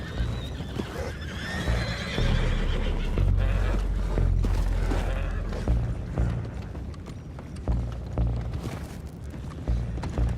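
Horses whinny and neigh repeatedly amid clopping hooves and creaking wood in Red Dead Redemption 2, with a busy game soundscape around them.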